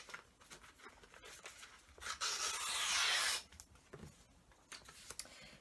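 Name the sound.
cutting paper strips for Christmas paper chains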